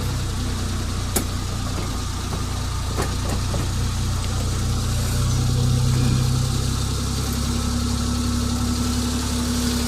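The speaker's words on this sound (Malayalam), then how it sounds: "വണ്ടി ഷട്ടാകുന്നു" A vehicle engine idling with a steady low rumble and vibration, close and continuous; the clip holds only the idle and does not clearly show it cutting off.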